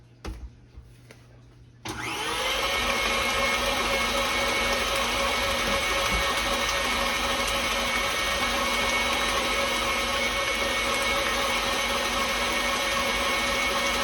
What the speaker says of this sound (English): So I'm gonna scrape down my mixer here and make sure it's very smooth.